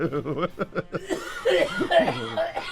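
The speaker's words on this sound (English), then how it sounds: "He might not be that young with that wheezing cough." A comedian in a studio gives a series of rhythmic, wheezing coughs that run into chuckles and laughter, close to the mic.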